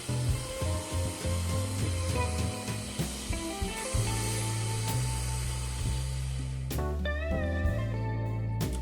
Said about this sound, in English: Now knead the dough for about 3 minutes using your hands or a mixer like I'm doing today.